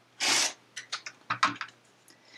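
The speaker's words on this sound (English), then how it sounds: "My fabric is still folded together, and then I'm going to cut." Rotary cutter slicing through folded quilting fabric along a ruler: one loud, sustained scraping cut, then a series of shorter, softer scrapes and taps close by, with no talking.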